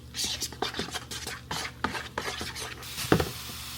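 Ketchup and mayonnaise are stirred together into a sauce, making a series of wet scraping and rubbing strokes against a bowl at close range.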